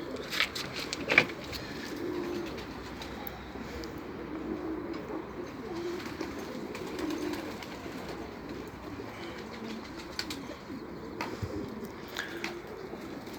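A pigeon held in someone's hands gives soft, repeated coos, fairly close against a steady outdoor background with faint chirps.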